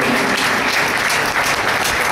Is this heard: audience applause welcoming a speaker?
yes